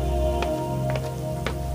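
Cartoon rain pattering steadily on a surface, a continuous hiss of drops with a few sharper splashes standing out over a constant humming background, with no voices.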